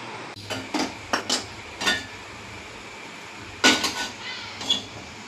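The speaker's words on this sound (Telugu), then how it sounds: "చికెన్ అయితే కట్ చేస్తున్నాను" Raw chicken being cut for chicken curry in a home kitchen, with scattered knife knocks and metallic clinks against a pan or plate, spaced irregularly and fairly close.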